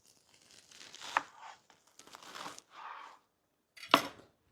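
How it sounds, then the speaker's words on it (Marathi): Fresh washed spinach (palak) being cut with a knife on a board for palak dal, a few irregular bursts of crisp chopping and leaf rustle with pauses between, close and fairly quiet, with no talking. "इथे मी पालक घेतलेली स्वच्छ धुवून, आपण आता पालकाची कटिंग करून घेऊ।"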